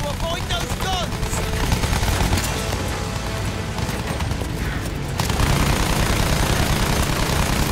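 Bomber gunners in Battlefield 1 fire continuously, a dense, loud wash of rapid gunfire with constant rattling and chopping bursts that fills the scene and swells slightly louder near the end, without a break.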